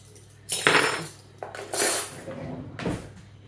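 A spoon scraping and clinking against a stone molcajete while scooping guacamole, in several short bursts close to the mic with quiet pauses between and no talking.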